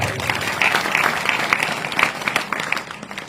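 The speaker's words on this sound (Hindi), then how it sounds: "एक बार उनकी माता जी के लिए जोरदार ताली बजाई।" Audience applauding loudly at a religious discourse gathering, a few seconds of dense hand-clapping that fades slightly toward the end.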